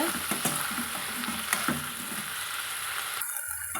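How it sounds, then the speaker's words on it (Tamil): Eggplant pieces sizzle steadily in hot oil, with stirring clinks and scrapes over the constant frying hiss before the sound drops off near the end. "கத்திரிக்காய் நல்லா வதங்குற அளவுக்கு எண்ணெயில் வெந்து வர அளவுக்கு வதக்கி எடுத்துக்கலாங்க"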